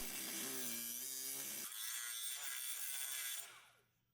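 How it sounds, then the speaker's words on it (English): A cutoff wheel grinds through the outer shell around a driveshaft carrier bearing on a Mercedes R171 SLK, a harsh continuous whining cut that shifts pitch midway, then trails off as the wheel spins down. "Using a cutoff wheel, cut the outer shell encasing the bearing."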